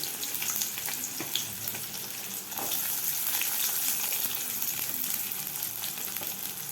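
Onions and curry leaves frying in hot oil for a dried fish thokku, a dense, even sizzle with faint stirring scrapes, steady and close throughout.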